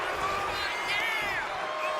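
Arena crowd in the WWE 2K wrestling video game cheering and roaring steadily throughout, a dense wash of voices with rising excitement, commentary voices mixed in underneath.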